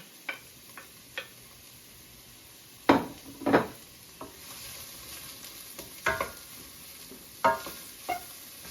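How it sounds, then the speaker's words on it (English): Onions sautéing in a pot on a home cooktop with a quiet, constant sizzle, broken by separate scrapes and knocks from a utensil stirring against the pot. "I'm going to add my onions, and I'm just going to saute this until they are translucent"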